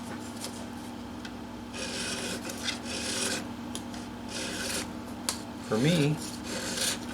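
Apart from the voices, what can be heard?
filing guitar frets, crowning them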